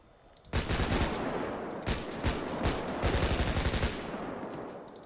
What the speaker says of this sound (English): advanced rifle